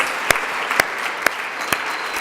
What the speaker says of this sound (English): give one round of applause for all of our panelists and speakers